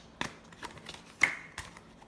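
Tarot cards are shuffled by hand in a few quiet, separate bursts of soft riffling and tapping, close and alone in an otherwise still room.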